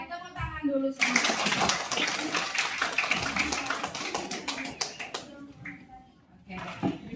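A class of children claps together in a classroom, giving a dense burst of rapid, overlapping claps that goes on for several seconds and then tails off into scattered claps, with children's voices chattering underneath.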